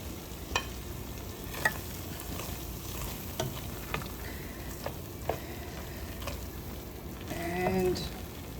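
A rice mixture is stirred in a pot for a Caribbean red snapper meal, with a steady low simmering hiss and occasional spoon scrapes and knocks against the pot, plus a brief louder swirl near the end.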